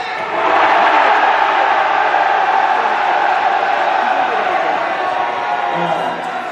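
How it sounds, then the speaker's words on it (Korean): A large crowd of soldiers shouts and cheers in unison at a military entertainment show in Hongcheon, a loud, sustained roar that swells quickly and holds for several seconds. "이분들의 함성 소리가 너무나 궁금합니다."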